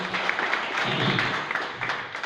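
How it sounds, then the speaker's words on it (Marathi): A gathering of a cultural organisation's bride-and-groom parents' meet breaks into applause, a brief burst of many hands clapping at moderate distance, filling the room for a couple of seconds. "सगळ्यांसाठी आपण एकदा टाळ्या वाजले सगळ्यांसाठी"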